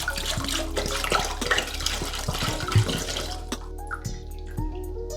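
Elijah Craig small batch bourbon pours into a pot of melted butter, a close, continuous splashing trickle of liquid that tapers off toward the end.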